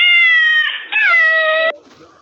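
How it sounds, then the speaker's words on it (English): A cat gives a single long, loud, drawn-out meow with a rising then falling pitch, heard close and alone, trailing off into a faint breathy end. "cat"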